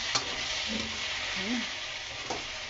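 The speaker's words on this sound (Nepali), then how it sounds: "मजाले चलाउने यसलाई" A spoon stirs potato and snake gourd curry in a pan over a low flame. Soft continuous sizzling runs underneath, with a couple of brief scraping clicks near the start and end.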